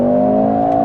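A Mercedes GLC 43 AMG engine hums loudly during a downshift at a steady, slightly rising pitch, close by and sustained, no voices.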